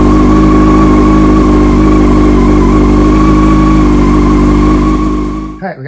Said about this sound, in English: So we are going to start the bike up now.